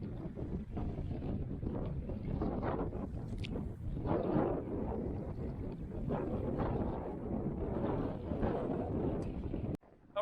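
Strong wind of over 20 knots buffets an inflatable fishing boat at sea, a loud continuous blustery rush with gusting swells and low rumble, ending in a brief sharp cut-off, with no voices.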